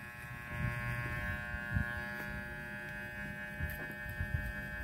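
A Walmart electric hair clipper buzzes steadily at close range while cutting a #1 mid fade. The motor drone holds even throughout, with small bumps as the blade moves through hair. No one speaks.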